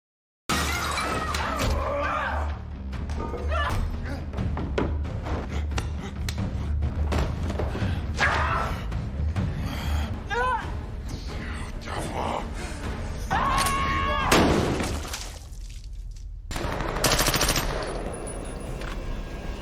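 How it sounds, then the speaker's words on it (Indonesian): Action film fight with bursts of rifle gunfire and glass shattering, rapid shots, thuds and breaking debris layered loudly alongside talking voices. "membuat si mata putih hancur kepala tertembak senapan oleh Dina."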